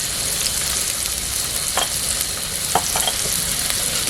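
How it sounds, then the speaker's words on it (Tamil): Onions sautéed with salt in a pan for chicken biryani sizzle constantly and loudly, with a few soft spoon scrapes against the pan mixed in. "உப்பு சேர்த்து நல்லா வதக்கி வச்சுக்கணும்"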